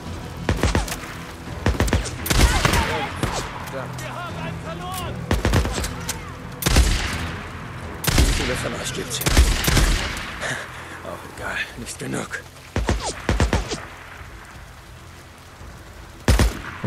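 Gunfire in the zombie survival game Days Gone, with repeated sharp shots and bursts scattered through the clip, mixed with game noise and loud, close talking throughout.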